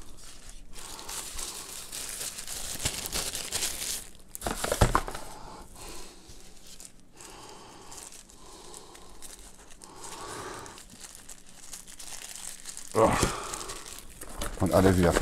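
Thin plastic bag crinkling and rustling close by as an ACEFAST car phone holder is repacked, with an irregular stream of crackles and a few louder crumples near the end, partly under some talk.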